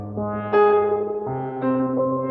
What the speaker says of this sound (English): I have this piano with a modulator modulating the bandpass filter of the Pro Q3.